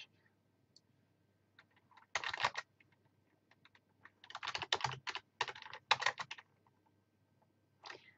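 Bursts of typing on a computer keyboard, several quick clattering runs of keystrokes separated by pauses, close and clear with no talk.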